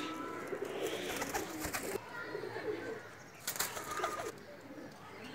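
A golden Pakistani pigeon coos in soft, close bursts, with one run near the start and another later on, over quiet background hiss.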